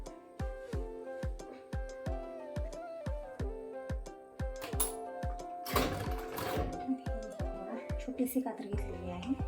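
Sewing machine stitching a dress, a steady run of sharp mechanical needle clacks in even rhythm, close and fairly quiet, with a brief rustle of fabric midway.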